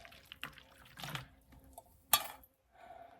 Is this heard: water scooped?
yes